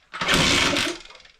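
A Honda MT5 moped engine giving one brief chuff as it tries to start, a short rough burst of combustion lasting under a second, close and fairly loud, then fading away.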